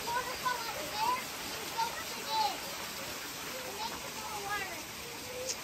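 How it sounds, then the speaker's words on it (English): Roadside water mill in the Black Forest, built in 1789, giving a soft continuous splashing flow of water at moderate distance, with faint voices and chirps scattered over it. "we found this water mill"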